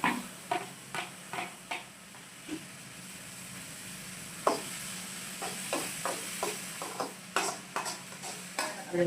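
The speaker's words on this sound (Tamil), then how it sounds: "வெங்காயம் இந்த பதத்துக்கு வந்த உடனே தக்காளியை போட்டுக்கிறோம்" Tomatoes go into frying onions for a Tamil-style chicken gravy, and a low hiss runs under a regular series of spoon scrapes and taps against the pan, close by and with no talk.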